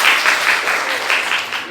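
Short burst of applause from a classroom audience during a teaching session, fairly loud and close, with clapping bunched in quick rhythmic pulses that fade slightly toward the end.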